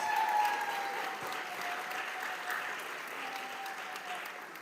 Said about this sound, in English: let's give all of our students another round of applause